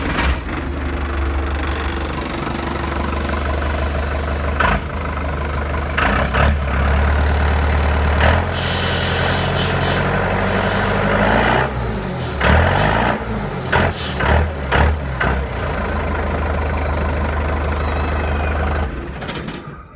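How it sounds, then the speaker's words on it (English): A John Deere 6410 tractor engine cranks, catches and settles into a steady, loud diesel idle with irregular bursts and rattles, close to the microphone and with no talking. "start the tractor for you."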